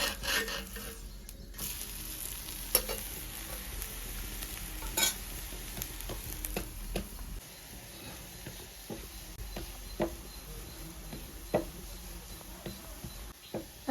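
Talipattu flatbread fries in oil on a hot griddle: a quiet, even sizzle runs under repeated spatula scrapes and sharp clicks that come in uneven bursts.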